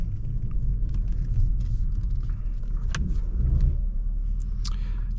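A 2011 Mercedes S550 pulls up and parks, its low, steady cabin rumble continuous beneath a few faint clicks and taps from inside, without any speech.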